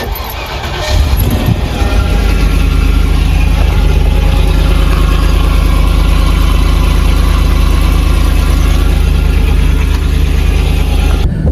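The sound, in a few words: Land Rover Discovery 2 V8 cold start without rear exhaust box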